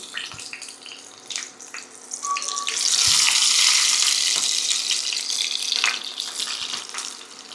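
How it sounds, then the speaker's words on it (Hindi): Whole tomatoes placed in hot oil in a pan set off a loud, rising sizzle that swells midway and stays bright and hissing, with scattered clicks and knocks of the pan and no one talking. "तेल जो है हमारा गरम हो गया है और ये टमाटर जो है हम इस तरह से रख देंगे"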